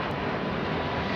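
Delta Airbus A330 with GE CF6 jet engines passing high overhead at London Heathrow, a steady broadband roar with no break across the short moment, heard alone.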